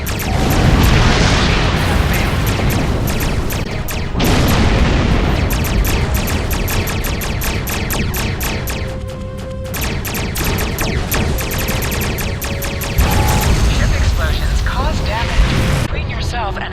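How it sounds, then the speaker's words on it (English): Starships blow up one after another in a Star Trek video game, with heavy booming blasts and bursts over a dense, loud soundtrack of rapid rhythmic hits. Talk runs across much of it. "And exploding ships"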